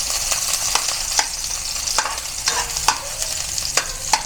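Onions sautéing in a pan for adobong sitaw: a continuous sizzle broken by regular sharp spatula scrapes and clicks, close and clear with no speech.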